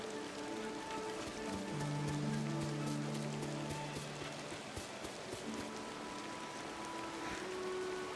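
Rain falls steadily on a garden outdoors, a constant close hiss of drops, with a faint low hum running through the middle of the stretch.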